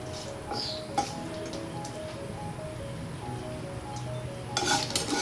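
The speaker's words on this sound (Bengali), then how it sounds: "একটু ভালো করে এইভাবে নেড়ে নিতে হবে" Jackfruit seeds being stirred in a pre-heated wok, giving light scraping and clinking of the spatula against the pan with faint sizzling, steady and close, ending in a louder clatter.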